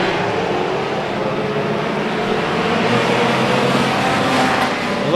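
Race cars roar around the Tomah oval at night during a Mid-Am feature, a dense, steady wash of engine noise from multiple cars passing close together with no letup.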